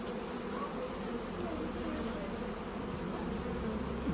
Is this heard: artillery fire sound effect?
no